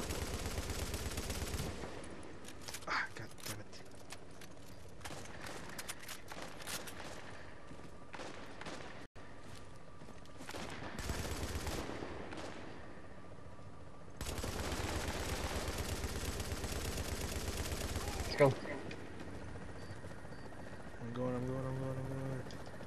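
Enemy gunfire in the video game The Division, Dark Zone, with bursts of rapid shots in stretches across the clip amid game noise and a player's talk.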